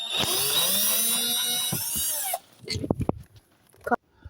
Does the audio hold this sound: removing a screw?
yes